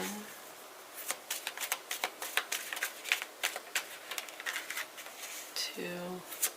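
Tarot cards shuffled by hand for a reading, giving repeated close papery riffles and taps spread across several seconds, with a brief voice near the end.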